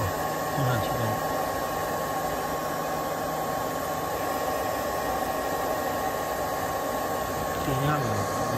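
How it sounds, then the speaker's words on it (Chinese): A car power inverter's cooling fan runs inside a hybrid Toyota RAV4, giving a steady, close, unbroken whooshing hiss that holds an even level throughout. "这个逆变器启动了啊，风扇启动了"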